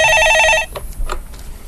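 A telephone rings loudly and close with a bright, warbling electronic trill on a stock-market call-in show, then breaks off after about half a second into quieter scattered clicks and background noise.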